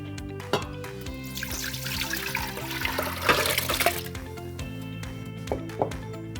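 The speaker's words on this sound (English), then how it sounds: "we're going to pour this water along with the rice" Water pours and splashes steadily into the metal pot of an Instant Pot pressure cooker with Kerala Matta rice, a gurgling stream building in the middle, with a few clinks at the start and end.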